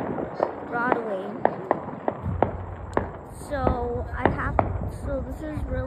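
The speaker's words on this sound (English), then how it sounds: "So this is really the fireworks show, Broadway here." Fireworks at a Broadway-themed display, with sharp pops and crackling bursts scattered through the clip, amid crowd noise, whistles and people talking.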